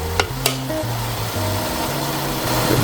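Pork belly with garlic, onions and peppers sizzles steadily in a pot as it is stirred, a close, continuous frying hiss with a couple of sharp utensil clinks near the start.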